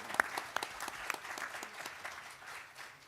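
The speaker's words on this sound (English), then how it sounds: "Can we give the panel as a whole a round of applause?" An audience claps for a panel at a housing resource fair, a brief, moderate round of applause with a few sharp individual claps standing out near the start before it tapers off.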